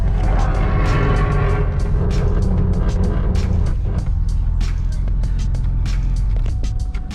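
A Nissan 240SX engine drones loud and close as the car is driven, with a steady low rumble and a faint clicking rattle running through it.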